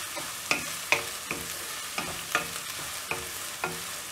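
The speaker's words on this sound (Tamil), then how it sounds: "பூண்டு வெங்காயம் இதெல்லாம் நல்லா ஃப்ரை ஆகணும் இந்த எண்ணெயிலேயே" Onion and garlic fry in oil, a soft sizzle under about eight regular spoon scrapes, close by, with no voices.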